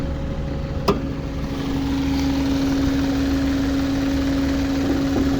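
A 2010 Honda Civic with a VTEC engine idles smoothly and steadily nearby, a constant low hum with a faint whine, after one brief click at the start.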